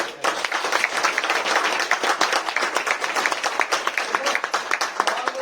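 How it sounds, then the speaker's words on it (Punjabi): Audience applause at a live comedy play: dense, steady clapping from a crowd, loud and continuous for several seconds. "ਸੋ ਸਭ ਤੋਂ ਪਹਿਲਾਂ ਮੇਰੀ ਬੇਨਤੀ ਹੈ ਤਾੜੀ ਜ਼ਰੂਰ ਲਾ ਦਿਓ।"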